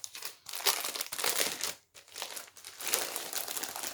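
Plastic packaging around a pair of trousers crinkles loudly up close as it is opened, in several bursts of rustling separated by brief pauses.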